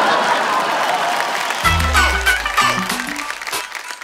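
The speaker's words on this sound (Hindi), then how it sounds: "जोरदार तालियां" A crowd at a television awards ceremony applauding, a dense patter of many hands clapping, fairly loud, while a voice and music rise beneath it partway through.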